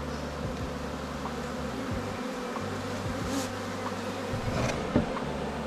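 Honeybee swarm moving into a hive, a dense steady buzzing drone of many bees close by, continuous with individual bees flying past, no speech.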